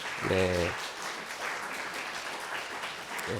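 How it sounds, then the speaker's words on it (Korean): A church congregation gives congratulatory applause during a Sunday service at a Methodist church in Cheorwon. A brief voice opens the moment, then moderately quiet, steady clapping carries on for about three seconds. "축하 박수."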